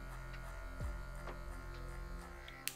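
Electric hair clippers fitted with a 1.5 guard buzz steadily while cutting afro hair into an American-style cut, a close, constant hum with small shifts as the blade moves and a brief click near the end.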